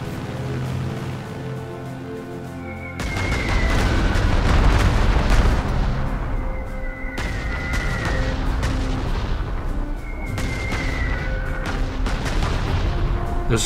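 Strategic bombing explosions in the wartime strategy game Panzer Corps 2, set in Berlin: a quiet lead-in gives way to loud, rumbling booms at intervals, each blast swelling and decaying over a steady background.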